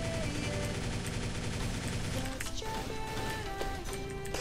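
Rapid, continuous gunfire from the online shooter Truy Kích VN, including zombie mode, rattles loudly in dense bursts, with game tones and effects layered over it.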